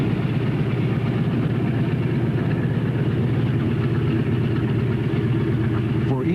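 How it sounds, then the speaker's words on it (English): Radial engines of a Boeing B-17 bomber rumbling in a steady, loud, low drone that continues throughout without pause. "the offbeat rumble of the radial engines carried a special meaning"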